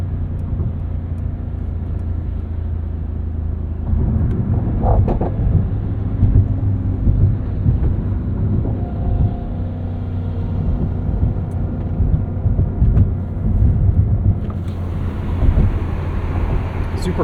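2024 Mercedes-AMG GT 63 coupe, 577 hp, revving under a bridge: deep rumbling engine and exhaust that swells after a quiet idle, with repeated throttle blips and reverberant low booms, then a brief mechanical whir at the end.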